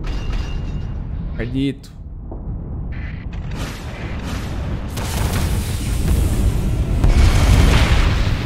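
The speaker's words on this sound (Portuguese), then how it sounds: "Olha o robôzinho ali atirando." A robot ship opens fire in a Starsector space battle, heard as booming shots and rumbling blasts that build into a dense, loud barrage, with a man's brief spoken word early on.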